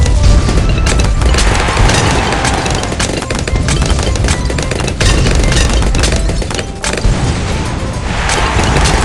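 Dense, continuous barrage of explosive booms and crackling blasts from fire bombs in the Bloons TD 6 tower defense game, loud and relentless with no pauses and no voices.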